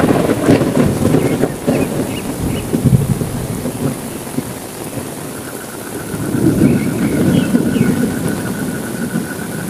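Steady heavy rain pours through a night thunderstorm, with deep rolling thunder swelling near the start and again later, the downpour constant and fairly loud with no voices.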